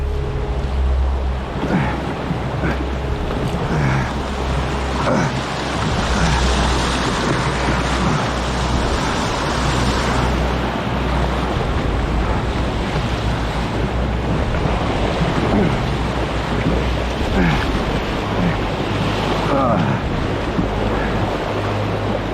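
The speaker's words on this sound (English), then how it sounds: "Back-to-back rapids came at me fast" Rushing river rapids on the Wolf River, heard from a canoe, give a steady, loud broadband roar of churning water with wind buffeting the microphone throughout and no voices.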